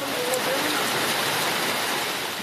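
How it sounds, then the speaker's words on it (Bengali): Heavy monsoon-season rain pours steadily in Jashore, Bangladesh, a loud, dense, unbroken hiss that fills the whole stretch with no voices. "সন্ধ্যা যেন নেমেছে ভোরেই, তারপর মুষলধারে বৃষ্টি।"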